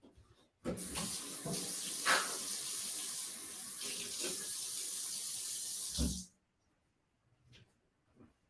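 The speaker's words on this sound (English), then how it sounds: "Let me pour myself a drink." Water runs steadily from a tap for about five and a half seconds, a close, hissing pour into a glass or sink, then cuts off abruptly, leaving near silence with a couple of faint clicks.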